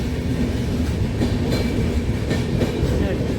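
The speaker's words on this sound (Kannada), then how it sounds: "ಇಲ್ಲಿ ಒಂದು ಟ್ರೈನ್ ಬಂತು" A train rolls past at Chikkajajur on the tracks, producing a continuous, close, loud rumble with faint rhythmic clatter from the wheels and no pauses.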